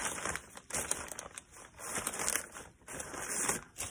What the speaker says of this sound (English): Cut into the package.